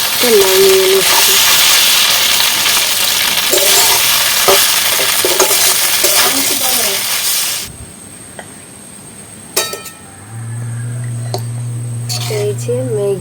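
Maggi noodles and egg being stirred in a hot pan, a loud steady sizzle with scraping stir strokes for about eight seconds before it quiets to faint clinks and a low hum, with speech in the background.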